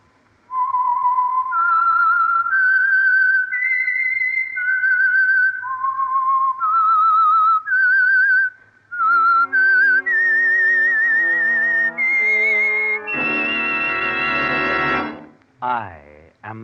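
A clear, melodic whistled tune, the signature theme of the radio show The Whistler, plays alone, sustained notes rising and falling in a short phrase, followed by a richer held tone and brief fade.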